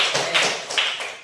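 Short round of applause from an elementary classroom during a fifth-grade Islamic studies lesson: a brief patter of light claps in a few soft bursts, fairly close and fading quickly.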